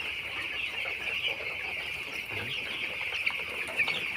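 A brood of twelve-day-old chicks in a curtained shed on a winter night peep and cluck continuously, a dense, moderately close chorus of overlapping calls with no talking.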